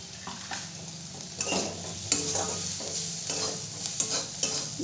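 Salt and spices get stirred in a hot pan for aloo paratha filling, a spatula scraping in irregular strokes over a soft background sizzle, close and moderately loud with no talking.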